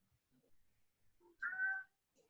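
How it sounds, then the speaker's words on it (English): A cat gives a single short, faint meow in an otherwise quiet indoor room, preceded by a few soft, scattered little noises. "I don't know if you guys heard that little meow."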